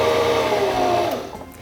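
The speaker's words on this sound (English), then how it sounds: "step on your foot controller to begin winding the bobbin" A Singer Fashion Mate 5560 sewing machine winds a bobbin with a steady, close motor whir that runs evenly, then slows and fades toward the end.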